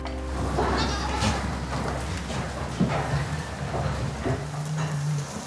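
Several medium-sized, long-haired Corsican goats of a local breed bleat over a busy outdoor background, with wavering calls rising here and there, some near and some farther off, amid rustling and hoof sounds.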